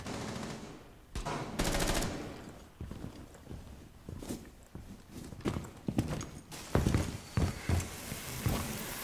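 Rapid bursts of gunfire in Rainbow Six Siege, firing in clustered volleys with sharp cracks and impacts throughout, some shots near and loud, others quieter and farther off.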